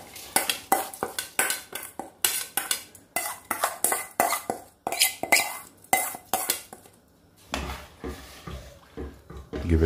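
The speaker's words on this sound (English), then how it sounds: "Give it a bit of stir." Washed basmati rice being stirred in a pot for vegetable pilaf, a run of rhythmic scraping, clinking spoon strokes close by, then a short pause before a lower rustling stir resumes.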